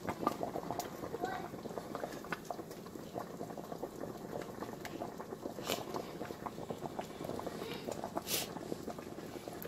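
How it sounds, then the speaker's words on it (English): A pot of cassava leaf stew boils steadily, a soft continuous bubbling and faint popping texture close by, with occasional small clicks above the simmer. "Just gonna leave it and let everything boil"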